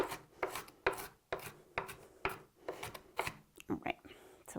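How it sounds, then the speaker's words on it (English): A knife roughly chopping an onion on a cutting board while making a corn salad: a steady series of sharp, close knocks and slicing scrapes in an uneven rhythm. Someone talks quietly in between. "I'm just going to take the knife and kind of run it over the onion and give it a rough chop"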